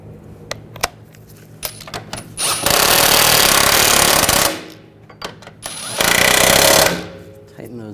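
A power tool drives and tightens bolts on a rear shock mount of a 2007-2013 BMW 328i, two loud sustained bursts of a couple of seconds each, separated and surrounded by metallic clinks and handling noises.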